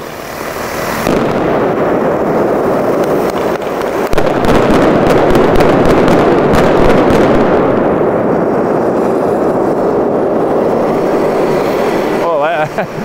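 A model helicopter fires a salvo of about twelve rockets, a loud, dense burst of rapid cracks and whooshes sustained for roughly eleven seconds, close to the microphone, before cutting off.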